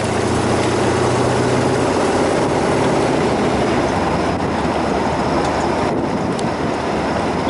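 Engine of a 1929 Ford Model A Highboy roadster given a little gas, a loud, steady low rumble that swells slightly and holds throughout with no talking.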